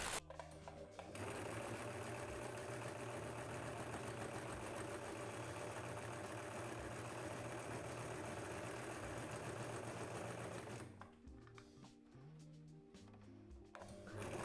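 A sewing machine runs continuously and close up, stitching fabric for a quilted floor cushion, with a rapid mechanical whir for about ten seconds before stopping into light handling clatter.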